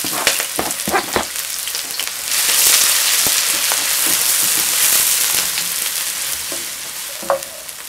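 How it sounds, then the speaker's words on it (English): Peppers, onions, garlic, ginger and green onions drop into hot oil in a heated wok, starting with scattered clatters and crackles, then rising into a loud, steady sizzle that slowly fades, with a few more clinks near the end. "Our wok is heated up. Just putting in some oil. Just throw in our peppers, onions, garlic, ginger, green onions."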